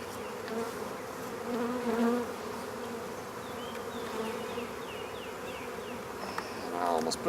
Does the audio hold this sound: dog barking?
no